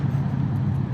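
A 2022 Triumph Bonneville T100 Gold Line motorcycle riding along a mountain road in North Wales. Its engine gives a steady, close, droning hum mixed with road and wind noise, with no breaks.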